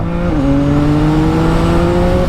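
A CF Moto 675NK motorcycle engine revs loudly and steadily up close, its tone holding at a sustained drone with a slight pitch rise early on.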